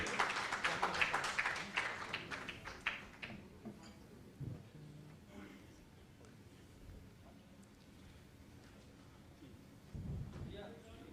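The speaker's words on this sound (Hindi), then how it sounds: "स्वागत की इस परंपरा का जोरदार तालियों से स्वागत होना चाहिए।" A crowd breaks into applause that fades out after a few seconds, leaving quieter room noise with faint voices.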